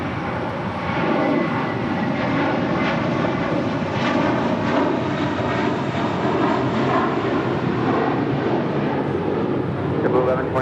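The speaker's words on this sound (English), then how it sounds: "This flight coming in from Vancouver and this old America West A319." A 2005 America West Airbus A319 jet arriving at LAX from Vancouver, its engines a loud, steady roar held throughout.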